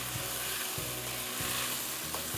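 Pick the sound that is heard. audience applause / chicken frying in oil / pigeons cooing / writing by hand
chicken frying in oil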